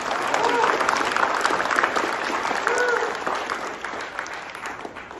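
An audience at a Ukiah Unified student-of-the-month ceremony claps for the honored student, a steady round of applause that slowly fades, with some voices faintly mixed in.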